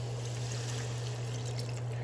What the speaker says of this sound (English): you want to go ahead and add a cup of water